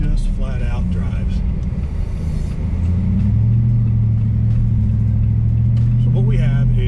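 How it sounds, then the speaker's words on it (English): A 2021 Jeep Gladiator Mojave with a swapped-in 6.4L 392 Hemi V8 gives a deep, steady engine rumble that swells midway as it drives, with someone talking over it throughout. "has plenty of get up and go, has the V8 sound"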